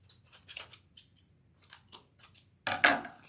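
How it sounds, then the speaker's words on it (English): Scissors snip through yarn in a series of short, crisp cuts at close range, ending in a louder final clip, with no talking. "A really sharp scissors will cut it really quick."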